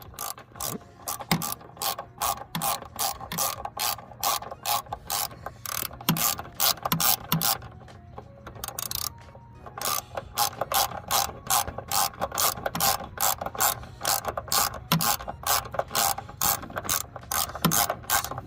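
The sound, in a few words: ratchet tightening upper mount insert on Hyundai Elantra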